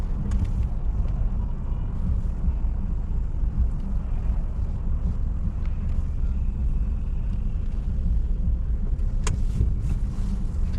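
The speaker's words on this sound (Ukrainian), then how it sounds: "почалися всі прелісті київських заторів" A car engine idles and creeps forward in a Kyiv traffic jam, heard from inside the vehicle as a steady low rumble with faint wind noise throughout and no talking.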